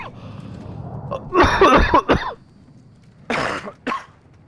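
A man gives a fake cough in a burst of several harsh, raspy coughs, then a second shorter pair a moment later, loud and close against quiet game background.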